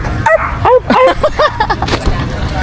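Dogs yip and bark in short bursts at a Red Cross dengue fun run where people run with their dogs, several close yelps repeating over crowd noise and background chatter.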